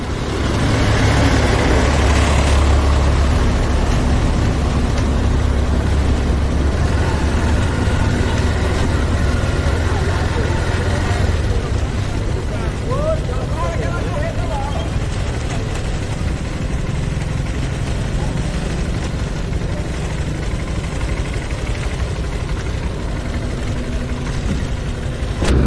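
A motorcycle engine idles at a river ferry port in Pará amid other vehicle engines, giving a steady mid-pitched rumble with a heavier low drone early on, and faint voices now and then.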